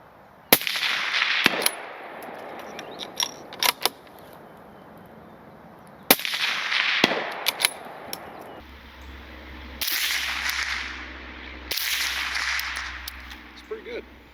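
Suppressed rifle shots through a KGM R30 suppressor on a short 12-inch .308 with supersonic ammunition, outdoors: several sharp muffled cracks spaced seconds apart, each followed by a brief decaying tail.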